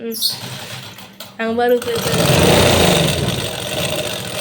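A tailoring sewing machine newly fitted with an electric motor runs with a steady, loud whir after a brief spoken remark, continuing to the end.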